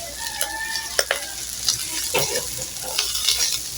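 Garlic fries in oil for a bitter melon dish, a continuous close crackling sizzle broken by scattered pops and sharp utensil clicks against the pan.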